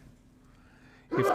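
A single sharp sneeze bursts out near the end, loud and close, after a stretch of quiet room tone.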